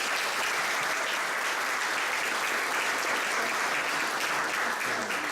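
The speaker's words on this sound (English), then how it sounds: "acknowledge their invaluable contributions to tonight's event with a well-deserved round of applause" An event audience applauds in a sustained, even wave of dense clapping that holds steady throughout with no voices over it.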